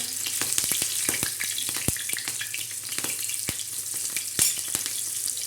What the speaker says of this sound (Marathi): तळून घेणार आहोत तर चला मैत्रिणी आता ह्या मिरच्या आपण टाकणार आहोत